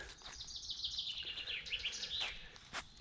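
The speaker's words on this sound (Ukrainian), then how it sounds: "Пташки співають, веселяться." Birds chirp and sing continuously in a forest in the morning, a bright, busy chorus, with one nearer bird repeating quick tweets over the others.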